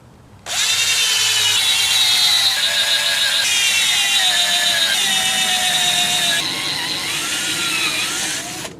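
A power drill bores holes into logs for mushroom inoculation, a steady high whine with small pitch shifts as the bit cuts through wood, loud and close, running continuously for about eight seconds with no talk.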